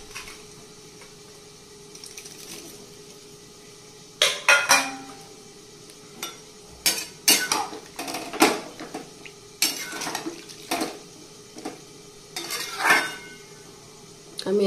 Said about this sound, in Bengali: এবার ভেজে রাখা পনিরগুলো আমি এর মধ্যে দিয়ে দিই।